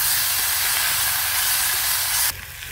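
Offal stirred with onions, mushrooms and garlic in a small camp oven, giving a steady loud hiss and sizzle that drops abruptly quieter near the end, with no voices.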